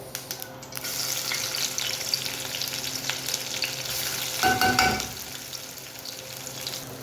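Washed rice goes into a hot pot of bubbling food, a constant frying hiss and bubbling under a brief louder splash and clatter midway, followed by settling sizzle.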